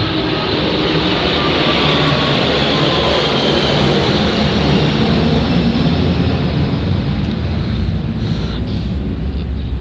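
Airplane flying overhead, a loud, steady broadband roar that fills the whole stretch without fading, with no talking over it.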